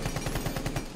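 Rapid automatic gunfire in the video game Rainbow Six Siege, a loud, close burst of about ten evenly spaced shots in one second.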